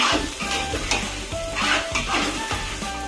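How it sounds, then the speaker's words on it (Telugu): A spoon stirs a salted prawn biryani mixture in a hot pan, with steady sizzling frying under repeated rhythmic scraping strokes and faint clinks of metal against the pan, close and continuous. "వేసుకొని మంచిగా మిక్స్ చేయండి ఒకసారి."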